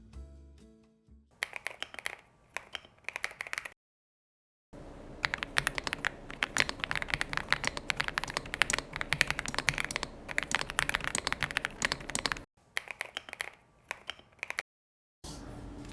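Typing on an Aula F75 mechanical keyboard fitted with linear switches: dense, rapid clacking keystrokes in bursts, loud and close, broken by a few short pauses with no talking.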